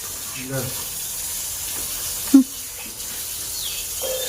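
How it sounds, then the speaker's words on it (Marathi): Water runs with a steady, even hiss near a riverside temple outdoors, continuous and moderately loud, with a brief sharp knock and faint voices in the background. "पाण्याचा आवाज आला"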